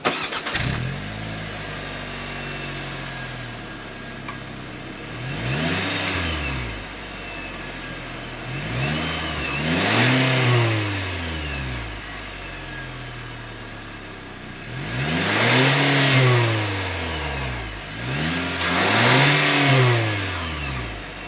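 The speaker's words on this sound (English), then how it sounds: "Let's take a listen to the engine from the outside" A 2025 Nissan Kicks SR engine revs repeatedly from outside the car, about five loud rising-and-falling bursts with idle in between, close and clear.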